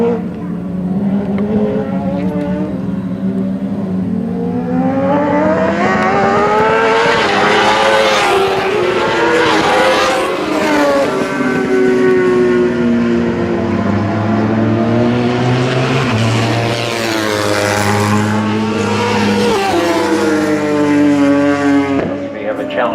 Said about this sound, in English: Possibly down on horsepower just a bit, and I suspect Garvey is probably using the CBR 1000.